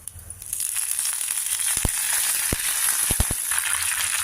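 Curry leaves sizzle loudly and steadily in hot oil, with a few sharp crackling pops breaking through the hiss.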